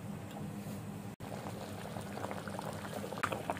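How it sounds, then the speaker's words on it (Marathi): Squid curry bubbles steadily in a pot as it comes to the boil, a close continuous simmering burble with small pops and no talking. "त्यांना उकळी येऊ दे।"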